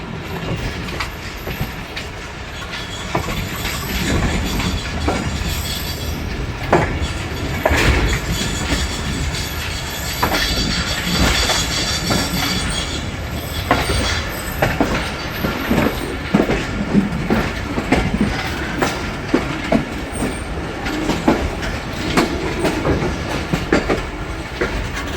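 The Pakistan Express train moves through the Rawalpindi railway station yard, with loud, continuous rumbling and rhythmic clickety-clack of wheels over rail joints, plus occasional squeals, heard close with no talking.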